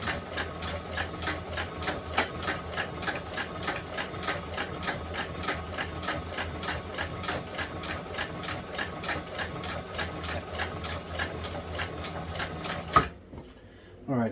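A sewing machine stitches a leather inlay rifle sling in a steady, rapid run of needle strokes that continues for about thirteen seconds and then stops, with a voice talking over it.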